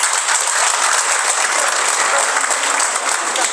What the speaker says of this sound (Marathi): शहराच्या भावी नगराध्यक्षा शीतलताई क्षीरसागर, एवढ्या टाळ्यानं कसं जमेल?